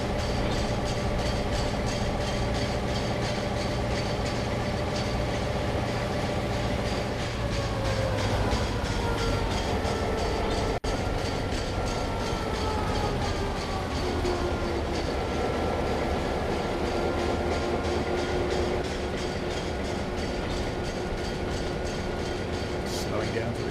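Simulated P-Class 500 horsepower locomotive rolling steadily in Trainz 2022, a continuous loud rail rumble with clickety-clack wheel rhythm and tonal engine drone that shifts pitch partway through, with wheel squeal toward the corner.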